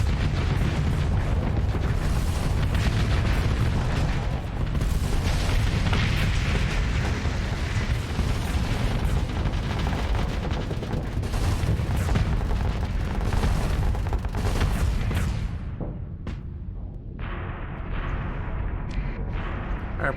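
Mortars firing in Starsector space combat, a dense barrage of repeated booming explosions and rapid gunfire pops that carries on steadily and thins out near the end.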